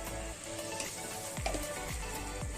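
Chili, turmeric, cumin and coriander powders sizzle steadily in a hot pan for an egg curry, with a few scraping stirs of a spoon cutting through the close, continuous frying hiss.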